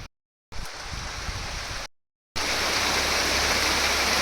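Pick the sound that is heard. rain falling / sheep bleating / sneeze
rain falling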